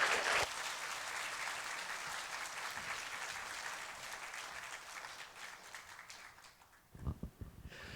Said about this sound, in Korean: 강사 목사님 나오실 때 큰 박수로 환영해 주시기 바랍니다.